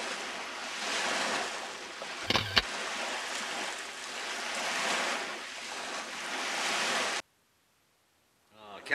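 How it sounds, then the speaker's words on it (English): Steady broadband wash of surf rolling onto a beach, with a brief thump partway through, then a sudden cut to near silence before a faint sound returns. "Listen to the waves."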